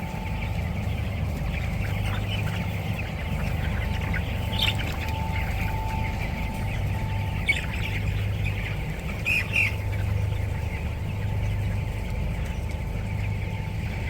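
Thousands of broiler chickens, around 28,100 birds, fill a poultry farm shed with constant overlapping squawks and chirps. A steady mechanical hum runs underneath the whole time.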